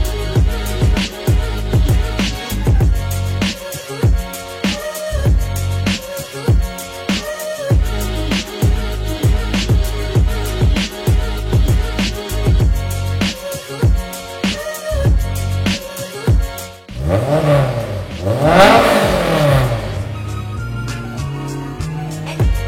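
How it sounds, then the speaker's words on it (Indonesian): A J's Racing Honda S2000 engine revs hard over and over, loud and close, climbing toward high RPM in repeated sharp pulls before a final sweeping rev-up and drop. "Nanti gue pengen denger nih kalau digeber high rev, nanti kita lihat ya di RPM juga dia bakal naik sampai berapa tuh"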